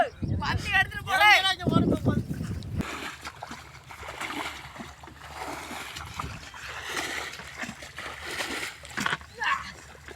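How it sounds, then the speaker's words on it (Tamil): A murrel fish caught while fishing on the Kaveri river flops and splashes wetly toward the water in short, irregular bursts, with people talking over it throughout. "தண்ணிக்குள்ளே போகிறதுக்காக இப்படி துள்ளுது பாருங்க விராமீன்."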